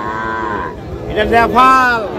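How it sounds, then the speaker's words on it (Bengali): At a Nilphamari cattle market selling Sahiwal bulls and calves, a cow or calf gives one long, loud, close moo. The moo swells and bends in pitch over about two seconds. "এটা কি জাতের বাছুর?"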